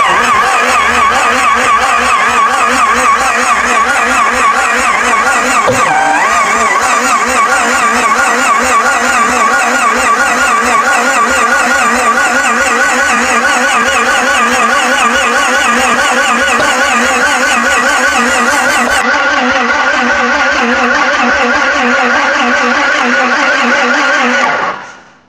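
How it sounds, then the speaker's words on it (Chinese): A 1946 antique car, a restored vintage Shanghai-era vehicle with a six-cylinder engine and misrouted spark plug wires, runs roughly in a loud, continuous, close rumble with irregular popping that fades abruptly at the end. "现在啊，有点反火放炮，应该是发动机钢线插的不对。"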